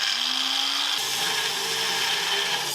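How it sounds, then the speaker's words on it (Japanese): A power tool whines as it cuts a brake pipe during a Caterham Super Seven brake overhaul, a loud close grinding buzz whose pitch shifts partway through, with no voices. "そしてパイプカットしちゃいます。"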